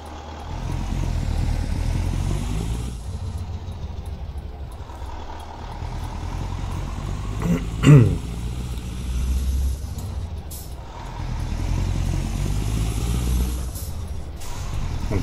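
Iveco 190-38 truck engine in Euro Truck Simulator 2, a deep steady diesel rumble rising and falling through gear changes, with a brief hiss of air brakes in the middle.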